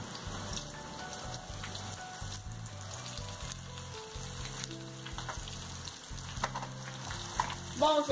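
Slices of jiló, the small bitter scarlet eggplant, fry in hot oil with a steady close-up sizzle and crackle. Brief clinks of utensils break through, and one louder clatter comes near the end.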